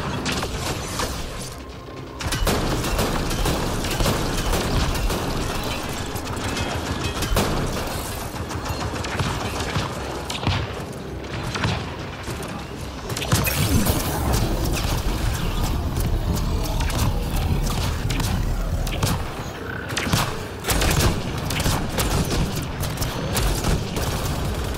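Sustained gunfire in the sci-fi shooter Mass Effect Andromeda during a multiplayer Silver mission: dense, continuous bursts of automatic weapon fire and impacts, loud and close throughout with barely any pause.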